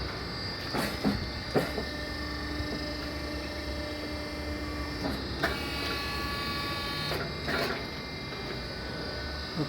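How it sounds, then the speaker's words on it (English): An automatic tyre changer machine hums continuously as it fits a back tyre onto a rim, steady motor drone with periodic metallic clanks and knocks, close and without talk. "we fix that tire by using this tire changer machines"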